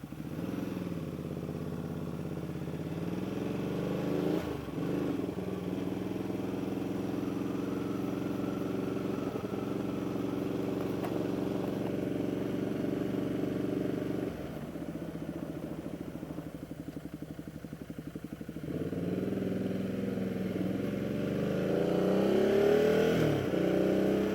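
A Ducati Multistrada motorcycle with an uncorked exhaust rumbles loud and close as it rides, revving up and easing off through the gears with a deep, throaty exhaust.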